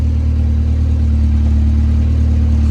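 A Honda EF Civic engine runs steadily at idle, a loud, constant low hum with a regular throb and no other sounds.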